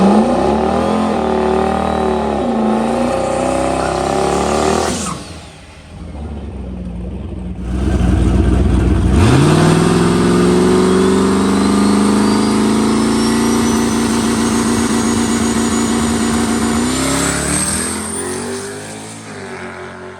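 A boosted car makes a quarter-mile drag racing pass. The engine idles and revs loudly, briefly drops, then launches into a long, rising, roaring acceleration through the gears before fading at the end.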